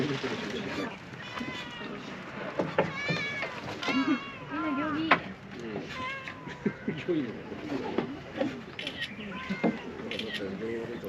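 Cats on a cat island in Japan meow repeatedly and close by at midday feeding time, with overlapping cries, some birds, and people talking in the background.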